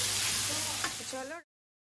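Sliced ivy gourd sizzles loudly while it is stirred as it fries in a pan in a home kitchen. Near and continuous, a brief voice enters just before the sound cuts off abruptly.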